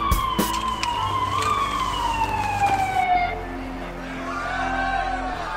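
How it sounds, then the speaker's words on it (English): A wailing police siren sweeps up and down, steady and fairly loud, with traffic rumble underneath; the tone drops and fades toward the end. "as luck would have it, sirens are heard"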